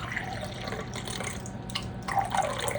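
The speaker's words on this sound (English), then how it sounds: "we're gonna pour out 4 ounces" Colonoscopy prep liquid is poured into a measuring cup, a close, thin trickle with small splashes and drips that gets a little louder toward the end.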